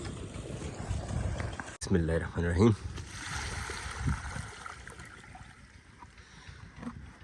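Water poured from a bucket onto lemon plants in a farm field gives a steady rushing splash, with a voice speaking briefly over it partway through.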